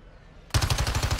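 Rapid automatic gunfire in the video game Warzone 2 bursts in abruptly after a quiet moment, a fast steady rattle of loud close shots continuing to the end.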